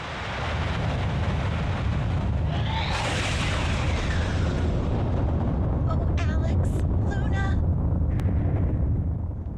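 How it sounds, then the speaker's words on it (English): A massive explosion as a tower sinks into the ocean in Lunar Silver Star Story, a deep sustained rumbling boom with a rising whoosh partway through and crackling bursts near the end. "the tower falls into the ocean and sinks down below the waves with a massive explosion"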